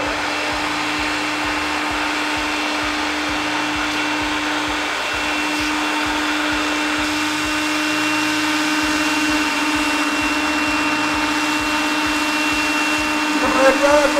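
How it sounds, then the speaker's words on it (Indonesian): A Makita DVC750L cordless wet and dry vacuum cleaner running close by, giving a loud, steady motor whine with a constant hum beneath it throughout. "Tenang, kita punya Makita vacuum cleaner, wet and dry."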